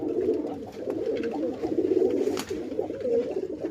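Tournament racing pigeons coo in a low continuous rolling murmur, several birds blending together close by, with a faint rustle or flutter partway through and no talk over them.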